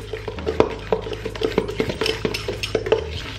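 Egg pie filling is stirred briskly in a bowl, a spoon clinking and scraping against the sides in a quick irregular rhythm, close and clear with no talking.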